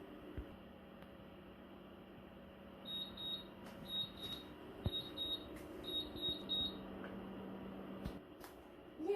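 Faint, high electronic oven timer beeps come in short repeated pairs over a low appliance hum, quiet and somewhat distant, while cupcakes bake.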